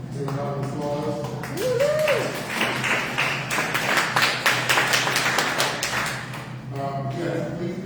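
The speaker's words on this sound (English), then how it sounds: "Take a round of applause." Attendees at a Mira Mesa town council meeting give a round of applause, a crisp burst of many hands clapping for about five seconds, with a speaker's voice before and after.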